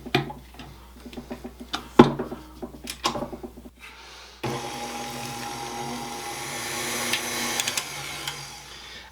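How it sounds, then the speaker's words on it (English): An egg and vanilla being whisked together in a bowl for carrot cake bars, a steady rapid clicking and scraping that sounds close and continuous, following some brief taps and knocks. "we're just going to whisk this together until it's"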